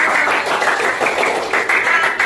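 Children in a classroom clap together in a steady, dense patter that stays fairly loud and even for a couple of seconds, with no voices rising above it.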